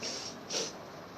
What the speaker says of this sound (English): inhalation and exhalation with the sound